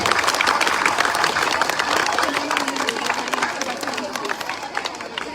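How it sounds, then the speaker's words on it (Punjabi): Audience applause at a village Teeyan Teej festival, a dense, steady wash of many hands clapping with crowd chatter mixed in, holding at an even loudness throughout. "ਤਾਲੀ ਵਜਾਉਣੀ।"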